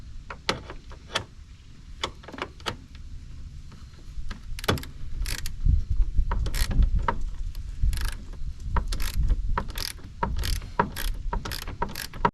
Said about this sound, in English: we got to take out these 4 bolts that's holding on the fan shroud